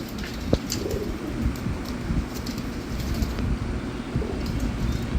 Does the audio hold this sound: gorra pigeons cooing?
yes